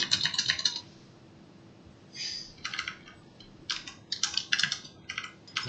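Typing on a computer keyboard comes in close, crisp bursts of key clicks with short pauses between groups, heard alone over faint room hiss.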